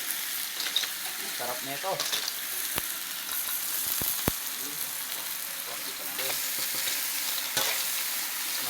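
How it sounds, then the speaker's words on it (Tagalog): Snails being sautéed in a pan sizzle and fry steadily, with stirring scrapes and a few sharp clinks, while a voice speaks briefly over the cooking. "So, gisa na natin tong suso."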